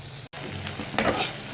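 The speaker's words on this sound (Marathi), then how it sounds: "हा मसाला आपण सगळा भाजून घेतोय मस्त असा." Ground spice masala paste frying in oil in a pan, with a steady close sizzle broken by a brief dropout and then louder stirring bursts.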